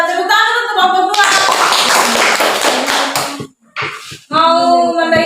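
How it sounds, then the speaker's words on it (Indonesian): Classroom audience claps briefly for a student group, a short burst of dense clapping between stretches of a teacher's voice, ending in a near pause before talk resumes. "Tepuk tangan untuk kelompok 2"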